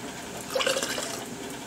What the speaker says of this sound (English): you can ladle into that and then go from there. Pour it